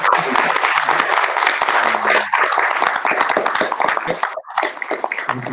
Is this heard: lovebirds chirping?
no